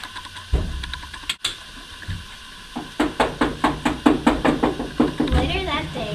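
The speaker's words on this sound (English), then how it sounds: "Cinderella heard a knock on the door" A knock at a house door in a Cinderella fairy tale, a quick series of about eight sharp, evenly spaced raps, loud and close, after a lone thump and some background murmur.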